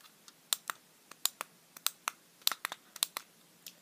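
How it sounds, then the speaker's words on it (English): A silicone pen-click button on a twelve-sided fidget cube is pressed repeatedly, giving sharp close-up clicks in an irregular rhythm with brief pauses. "It's supposed to sound like a click in a pen."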